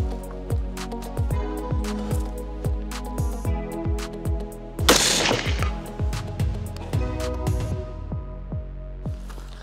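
Sharp .223 Rem rifle shots crack in a fast steady series at an outdoor range, each followed by a ringing clang, fired at a 6 mm steel plate 190 m away; one louder burst stands out midway.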